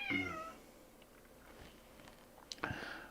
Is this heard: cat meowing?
yes